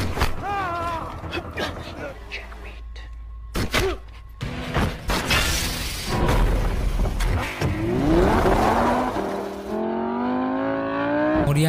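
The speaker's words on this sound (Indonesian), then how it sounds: "Saurab sang pengkhianat menembak Rizwan Ilyasi dan kabur dengan mobil sportnya" Sports car roaring off in an action-film chase scene, engine revs climbing amid crashes and thuds, mixed with dramatic music and voices.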